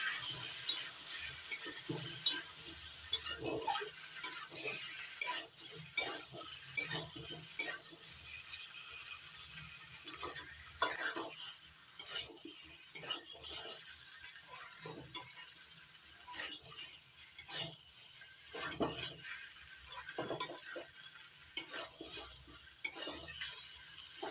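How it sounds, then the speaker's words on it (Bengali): Taro (gathi kochu) sautéed with spices in a pan, soft sizzling under repeated quiet scraping and clicking stirs, spread over a long stretch at low level. "মশলার সঙ্গে গাঠি কচুটা ভালো করে কষিয়ে নিচ্ছি।"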